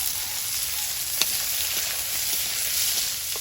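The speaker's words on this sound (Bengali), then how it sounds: "এবার দেবো পেঁয়াজ কুচি আর থেতো করা রসুন" Continuous close sizzle of chopped onion and crushed garlic frying in oil with fried potatoes, an even hiss with a faint clink partway through.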